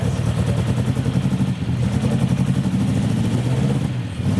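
A prototype Skoda car with a 1.1 litre straight-four pushrod engine, one of two remaining, runs and revs at a classic car show, giving a loud, close, throbbing engine note that holds steady throughout.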